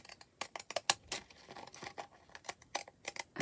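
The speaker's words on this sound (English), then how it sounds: "I like these scissors" Scissors snip through paper for a faux postage stamp embellishment, with a quick series of sharp, crisp cuts and light paper rustling, close and clear.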